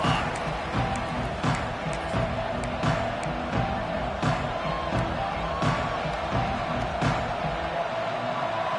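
Football stadium crowd in a video game, a loud, dense roar of cheering with repeated surging whoops and bursts over a continuous rumble, close and steady throughout.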